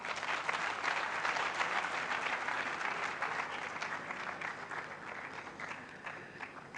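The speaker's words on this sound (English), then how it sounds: "Please, another round of applause for our dear brother and Acting Director General, National Service Authority." An audience at a university student-industry conference applauds steadily and fairly loudly, a dense wash of clapping that tapers slightly toward the end.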